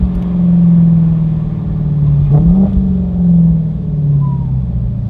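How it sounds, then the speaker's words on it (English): A stock-exhaust Dodge Demon 800-horsepower drag car idles in traffic with a deep, loud, steady rumble, rising briefly in a light rev blip midway before settling back to a burbling drone. "Listen to that exhaust."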